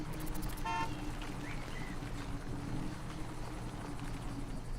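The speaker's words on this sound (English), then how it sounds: "We're gonna honk the horn." A van horn in the video game Caravan SandWitch gives one short, bright tonal honk near the start, standing over a steady droning game soundscape with no talk.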